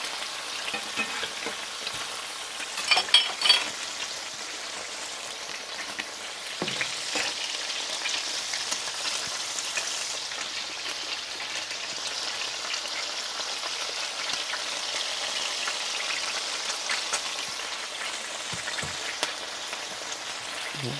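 Burger patties sizzling on a grill, a steady loud crackling hiss that runs throughout, with a few brief clatters from handling and no talk.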